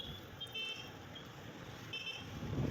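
Busy road traffic near Chinnathoomkal waterfalls, with a steady roar of passing vehicles and a couple of short car horn toots heard at a distance.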